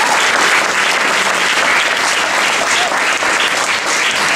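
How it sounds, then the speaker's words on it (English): An audience at a St Peters Anglican Primary School Year 6 evening applauds the teachers and support staff: dense, steady clapping that stays loud and even throughout, with no voices over it. "Can we give a round of applause to the teachers and support staff who've come tonight?"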